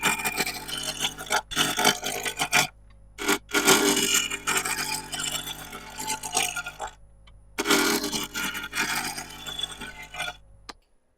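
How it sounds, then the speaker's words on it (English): A sharp bowl gouge cutting spinning plywood on a wood lathe, with rough scraping and chattering in long bursts broken by brief stops, close and fairly steady. "I got a very sharp bowl gouge."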